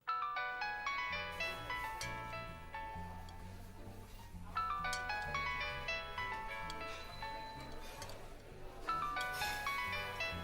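A mobile phone rings unanswered with a melodic musical ringtone, its bright repeating tune over a bass line cycling through several loops at moderate volume, with no one speaking.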